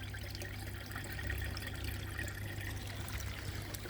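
Water trickling and pouring into a koi pond in winter, a faint, continuous splashing flow over a low steady hum, with no voices.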